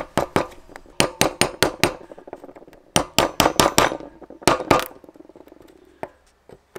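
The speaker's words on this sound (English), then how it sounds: "or using my chisel with a hammer" Sharp metallic hammer blows on a chisel removing rotten balsa core from a boat locker door, struck in quick bursts of several hits with brief pauses, close and loud.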